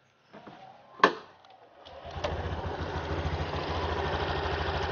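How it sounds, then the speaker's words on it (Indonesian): A 2023 Honda Genio 110 cc scooter engine starts up after a click and settles into a steady, close idle, its low putter running evenly to the end. "Dan ngomongin tentang mesin ya, inilah suaranya."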